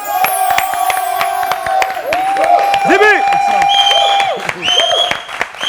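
A studio audience claps and cheers for the performer Dibi Dobo, a loud, steady wash of applause with whoops, while a host's voice talks over it throughout.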